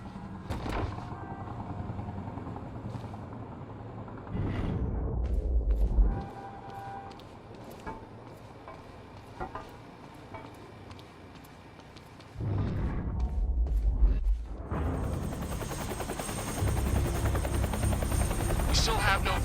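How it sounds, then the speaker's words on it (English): A helicopter from the video game Quantum Break thunders past overhead, its rotor chop loud and steady, swelling twice as it sweeps nearer, with a low rumbling backdrop throughout. "Better get inside before the chopper spots me."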